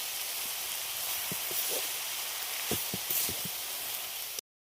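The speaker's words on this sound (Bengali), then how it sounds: "এবার আমি শাকগুলো দিয়ে দিচ্ছি, এবার আমি ভালো করে কষিয়ে নেবো সব রকম।" Leafy greens for a Bengali chachchori sizzle as they are stir-fried in a pan, a loud, steady hiss with a few faint clicks, ending abruptly.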